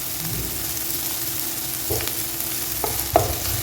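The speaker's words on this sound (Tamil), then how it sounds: "இதை நல்லா வறுத்துட்டு இதை முடிச்சு விட்டுருலாம்." Kadai chicken frying in oil gives a steady, dense sizzle with a few spatula scrapes and knocks toward the end, close and loud, with no voices.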